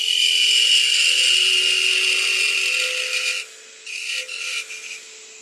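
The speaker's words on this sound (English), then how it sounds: "now we want to undercut that again with that small parting tool" A small parting tool undercuts a spinning wooden Christmas ornament on a lathe, giving a steady, loud raspy scraping that cuts off abruptly, then returns in a few shorter bursts.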